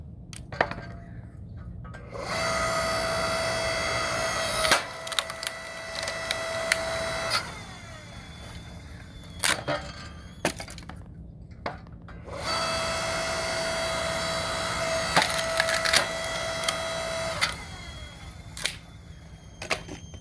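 A hydraulic Wen wood splitter works through big pieces of wood, its steady mechanical whine rising in two long strokes with sharp cracks and knocks as the wood splits, close and loud.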